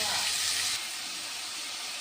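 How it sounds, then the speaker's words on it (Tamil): Onion with salt sautéing in a pan, a continuous close hiss of frying that is louder for the first moment and then settles to an even sizzle. "இதில் நம்ம சால்ட்டை போட்டு நல்லா வதக்கிடலாம்"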